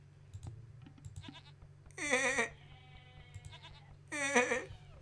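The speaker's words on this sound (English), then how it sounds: "These are goats. And check out the sound." Goats bleating in the Age of Empires strategy game on a desert map, with two loud wavering bleats a couple of seconds apart. Scattered mouse and keyboard clicks sound faintly underneath.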